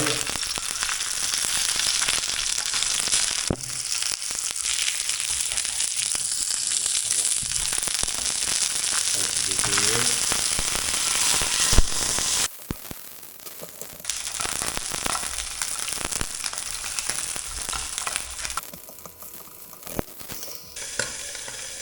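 Wild trout sizzles and crackles steadily in a hot pan, a dense close frying hiss broken by a brief scrape as the fish is loosened, then continuing slightly quieter with occasional pops.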